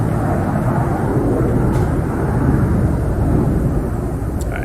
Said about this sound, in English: Oh, there's airplanes flying over.